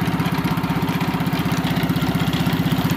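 A homemade generator engine idling close by, a steady rapid chugging pulse with an even rhythm throughout, loud and alone without talk.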